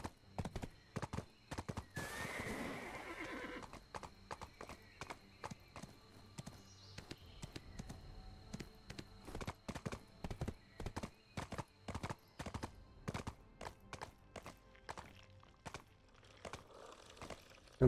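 Horse hooves clip-clop in a steady walking rhythm, close and distinct, with a whinny near the start, in the Black Desert video game.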